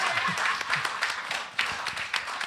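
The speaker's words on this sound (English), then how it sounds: "Clap for that" A comedy-show crowd at an outdoor cultural event claps together, a dense, steady patter of many hands filling the space, with a few louder bursts and faint voices mixed in.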